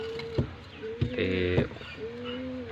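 A golden teddy pigeon coos nearby in low, rolling, throaty calls, several in quick succession with a fluttering burst in the middle, heard clearly without any talking over it.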